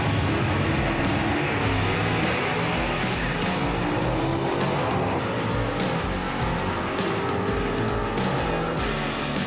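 A gasser drag race car makes a pass at Knoxville Dragway, its engine a loud, continuous, raspy roar that fills the whole stretch, with the pitch sweeping up through the gears and no voices over it.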